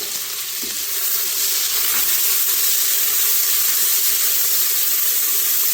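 Two medium finely chopped onions hitting a hot pan for a soya chunks pulao, giving a steady, bright, close sizzle that holds evenly throughout with no talking.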